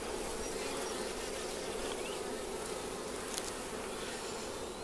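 Honeybees hum in a dense, continuous drone around an opened beehive during an inspection, a steady close buzz with no talk.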